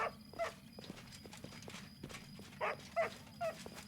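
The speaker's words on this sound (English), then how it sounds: "Clip clop, clip clop." A horse in Pathfinder: Kingmaker clip-clops, with a few sharp hoof strikes and short bursts spaced irregularly, faint and fairly close, with no talk.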